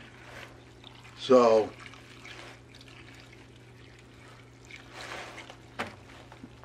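A jar of liquid biochar mixed with alpaca manure and Sea-90 is shaken, giving a short loud sloshing burst and later a softer slosh, with someone speaking briefly in between.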